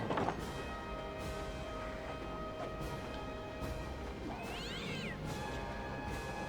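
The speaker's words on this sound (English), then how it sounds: "That was a cat." A cat meows in the Warhammer Online fantasy game, one short, high, bright cry heard midway through, over a steady hum of game ambience and music.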